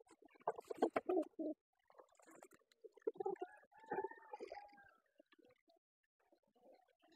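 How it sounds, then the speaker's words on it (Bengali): Pigeons scuffling in a cage, with bursts of coos, grunts and wing-flaps coming in uneven clusters, close and fairly quiet, separated by short silent gaps. "কবুতর লড়াই তো থামে না।"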